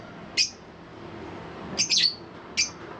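Sharp, high chirps from African lovebirds come in short bursts, one, then a quick cluster, then another, close by over a low hum.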